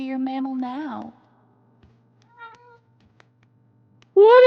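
A pet cat meows twice, close and clear, with one long, wavering call at the start and another at the end, and near silence between them.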